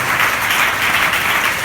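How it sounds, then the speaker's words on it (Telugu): A church congregation claps loudly during a Sunday service at Hosanna Mandir in Chennai: a dense, steady wash of applause that runs evenly for the whole moment with no pauses and no talking. "చప్పట్లు కొట్టండి గట్టిగా."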